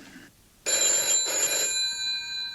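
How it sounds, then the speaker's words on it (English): An old telephone bell rings loudly indoors with a bright, metallic trill, one sustained ring that cuts off and leaves a fading ringing tail. "Well, go ahead, it's your phone."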